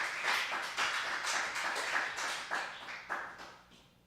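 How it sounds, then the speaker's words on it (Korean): Church congregation applauding to welcome two Bible readers at a Korean New Testament reading service, a steady wash of many hands clapping at moderate volume that gradually thins out toward the end. "우리 큰 박수로 맞이하겠습니다."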